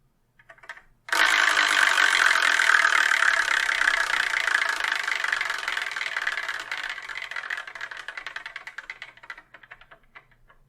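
A prize wheel spins to choose the next episode, giving a loud continuous rattling whir that starts abruptly and slowly fades, ending in a sparse ticking as it winds down.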